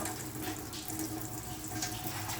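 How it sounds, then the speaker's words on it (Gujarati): Water runs steadily from a household tap while a vessel fills indoors, a continuous, fairly soft splashing hiss with no talking over it. "પાણી ભરે છે"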